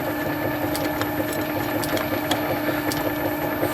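A lathe runs steadily with a continuous mechanical hum and whine, punctuated by faint intermittent clicks and ticks from the machine.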